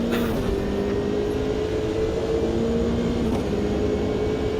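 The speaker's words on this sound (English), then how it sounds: "This car probably sounds the most boring out of all 4 in class." A race car engine in the sim racing game Automobilista 2 drones steadily and evenly, a fairly quiet, unvarying tone with a slight pitch shift near the end, heard alone with no voices.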